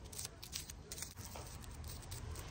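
Dried winged everlasting flowers on a cut-flower farm rustle with a crisp, papery crackle, a steady close-up rustling and scratching that runs throughout.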